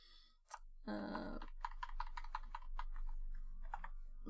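Quiet typing on a computer keyboard at a desk, a series of light, irregular key clicks near the microphone, preceded by a brief rustle and a short burst of broadband noise.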